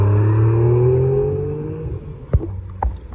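A Mitsubishi GTO leaving a supercar festival, a steady engine drone that falls in pitch and fades as the car pulls away, followed by a couple of brief knocks in the quieter tail.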